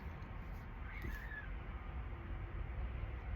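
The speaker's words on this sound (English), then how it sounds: "I just heard a cat scream or screech out there." A cat screeching outdoors, one short rising yowl heard at a distance and fairly faint over steady background noise, with no talking.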